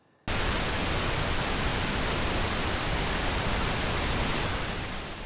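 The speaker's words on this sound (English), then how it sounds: "maybe you picked up that pink noise is a bit lower in pitch than white noise, sounds a little bit more like rain or maybe the ocean" Steady broadband pink noise, a dense hiss weighted toward the low end, like rain or distant surf, holding at an even loudness for about five seconds after an abrupt start, then easing slightly at the end.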